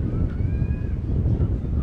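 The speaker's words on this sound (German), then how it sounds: "Aber hier geht wenigstens ein herrlicher Wind." Wind at a crowded beach at Evrenseki in mid-April blows steadily into the microphone, a loud continuous low rumble with faint distant tones riding on top.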